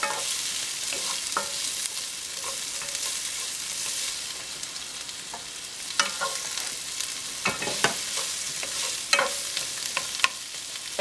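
Shrimp stir-fry sizzles steadily in a pan over a high flame, with occasional scraping and stirring clicks against the pan as it cooks.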